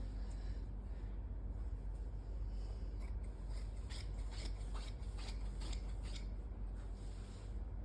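Scissors cutting printed suit fabric make soft, faint snips, a handful of quick cuts in a row over a steady low background hiss, with no talking.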